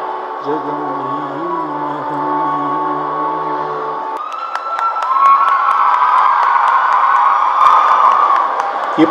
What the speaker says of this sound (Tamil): இப்போ நீங்கள் கூச்சல் போடுறது கரெக்டு